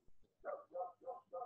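A dog barks four times in a quick, even rhythm, somewhat distant and muffled, following a couple of faint knocks.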